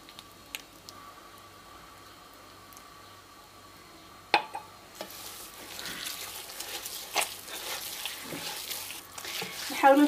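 Butter and shortening are stirred into oil in a pan while they melt: soft scraping taps at first, then a broader hissing sizzle that grows louder and busier toward the end.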